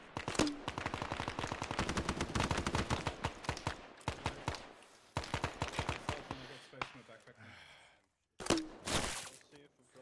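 Gunfire in the Arma 3 military video game, with bursts of rapid automatic fire and single shots. The shooting is loud and dense and comes in several clusters separated by short gaps, and voices talk over it.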